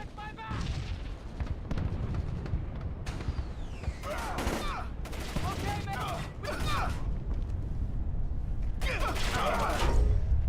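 Gunfire in the stealth shooter Splinter Cell: Chaos Theory, a dense run of shots and booms over roughly ten seconds with a voice talking over it.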